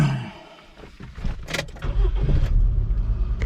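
A 2001–2005 Honda Civic engine cranks briefly and catches, settling into a steady low idle, heard from inside the vehicle.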